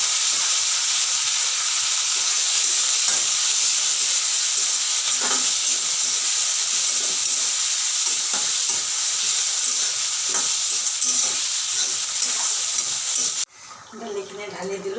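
Onion and chopped tomato frying in hot oil in a home kitchen pan, a dense steady sizzle with occasional stirring scrapes, loud and close, ending in a sudden drop to quiet.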